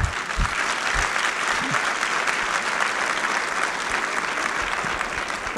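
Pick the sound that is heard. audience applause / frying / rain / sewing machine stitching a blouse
audience applause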